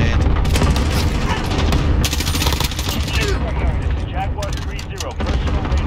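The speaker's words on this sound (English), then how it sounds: "Enemy cluster strike incoming." Cluster strike explosions in Modern Warfare rumble and crackle in a dense, continuous barrage of booms and debris, loud and close, with gunfire and voices mixed in throughout.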